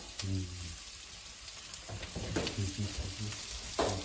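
Onions frying in oil in a pan for a spicy chicken curry, giving a soft, steady sizzle with occasional stirring scrapes and faint, indistinct background sounds.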